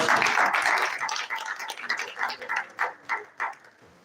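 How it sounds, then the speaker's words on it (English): A conference audience at a forum on Nigeria's textile and allied industries applauds a lead paper presenter; the dense clapping fades into a few scattered, rhythmic individual claps before dying out. "a round of applause for our lead paper presenter"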